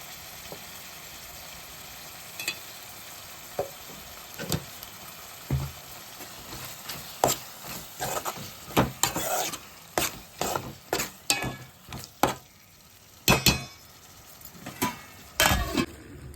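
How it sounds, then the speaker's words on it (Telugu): Prawns with ginger garlic paste frying in oil, with a soft sizzle under repeated spoon scrapes and metal clinks against the pan that grow busier and louder toward the end. "మనం రొయ్యలు వేసుకున్నాం కదా, నూనెలో రొయ్యలు మగ్గి"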